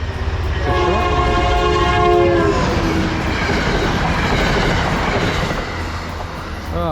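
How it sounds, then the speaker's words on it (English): A short train races past a trail crossing on the Appalachian Trail, its horn blaring in sustained tones at the start over a loud rumble and clatter of wheels that gradually fades as it passes. "We got a train coming."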